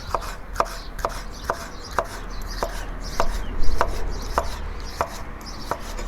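A knife chops bell pepper on a board for Fergana-style Uzbek plov, with about a dozen crisp, evenly spaced cuts close by and no talking.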